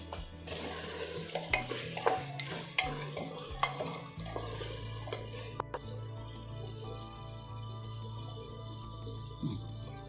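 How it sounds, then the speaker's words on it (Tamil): Mushroom biryani masala being stirred and fried in oil, a steady sizzle with scraping spoon strokes against the pot, most frequent in the first few seconds and then settling into continuous frying; no talking. "அதனால் நல்லா பொறுமையாக வணக்கிக்கிங்க."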